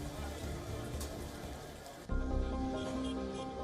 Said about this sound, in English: Mumbai woke up to heavy rainfall and consequent waterlogging causing floods in major parts of the city